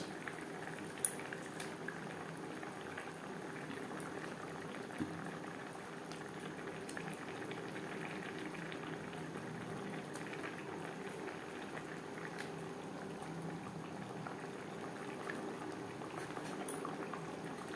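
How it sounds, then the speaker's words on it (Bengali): Sarputi fish curry gravy bubbles steadily in a pan, a continuous low simmering burble with faint pops, moderately quiet and close, no voices. "ফুটে ওঠা পর্যন্ত অপেক্ষা করব"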